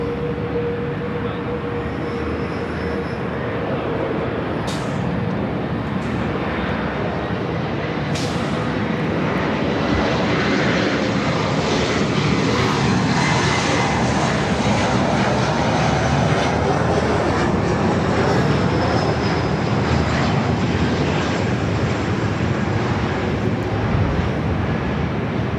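A Delta heavy airliner takes off from runway 24 Left at Los Angeles International Airport, its jet engines building into a loud, sustained roar that rumbles on for the whole stretch with no talk.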